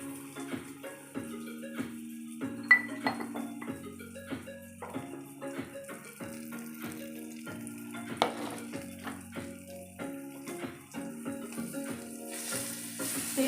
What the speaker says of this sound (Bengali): গরম হয়ে যাওয়ার পরে একটু হলুদ, নুন সব ওই কালো জিরে কাঁচা লঙ্কার সঙ্গে দিয়ে দিলাম।